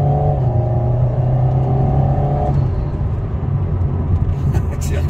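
An Alpine sports car on a race circuit accelerates nearby, a steady loud engine drone with a rising tone in the first half, then a rougher rumble as it pulls away.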